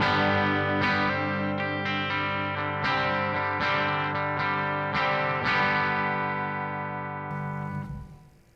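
An overdriven electric guitar played through a light overdrive pedal rings out sustained, gritty chords that shift every second or so, then fade away at the end.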